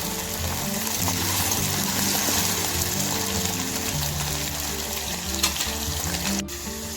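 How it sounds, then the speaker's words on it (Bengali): Potatoes frying in oil for a vegetarian potato and pointed gourd curry, a steady dense sizzle that continues throughout with faint clinks and scraping of stirring near the end. "প্রথমে ভেজে নেব আলু। আলুটা ভালো করে ভেজে নেব লাল লাল করে।"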